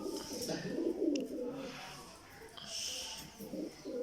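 Pet pigeons, a pair that includes a white bird, coo in low, soft, repeated throaty calls nearby, with faint voices in the background.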